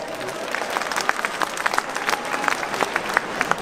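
Warm crowd applause at a Chinese New Year celebration in the Netherlands, welcoming the happy chefs; loud, dense clapping from many people, sustained evenly with sharper individual claps poking through.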